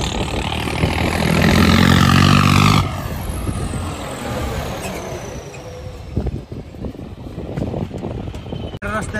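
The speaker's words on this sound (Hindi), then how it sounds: "गुरु जी का ट्रैक्टर है।" Farmtrac tractor engine running close by, a loud steady drone at first that drops after about three seconds into a rougher, lower rumble with a few sharp knocks near the end.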